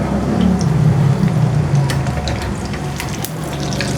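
Shami kababs frying in hot oil after being turned to the second side give a steady, close sizzle, with faint clinks and watery crackles scattered through it and no speech.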